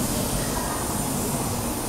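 A Tokaido Shinkansen Nozomi bullet train departing a station toward Tokyo: a loud, steady, broadband roar of rail noise, heard up close without voices.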